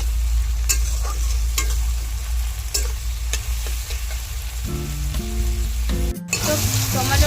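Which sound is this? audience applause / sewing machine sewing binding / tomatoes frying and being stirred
tomatoes frying and being stirred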